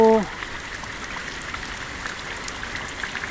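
Heavy rain from a storm falling steadily in the forest, a dense continuous patter after a brief tonal sound at the start, even and moderately loud throughout.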